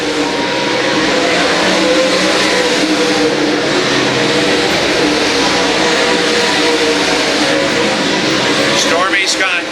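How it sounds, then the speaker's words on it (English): Dirt track race cars circling a speedway during a USMTS modified main event, a dense continuous engine roar under loud announcer commentary throughout. "he puts a lap on Kenny Wallace in car 36"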